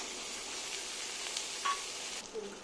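Green peas dropped into sizzling tomato masala in a kadai for shahi paneer, giving a soft continuous frying hiss at moderate distance with a small stirring clatter near the end.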